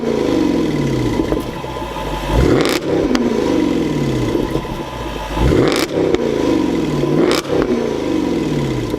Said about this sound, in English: You definitely do have a really nice exhaust note.